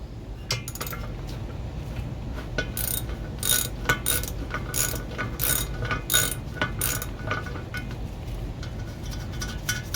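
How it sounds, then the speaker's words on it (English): A hand ratchet clicks rapidly in short bursts as bolts are loosened and removed from the fan clutch of a C3 Corvette, close and crisp, with light metallic handling noises between strokes. "There we have it, the 4 bolts out of the fan clutch"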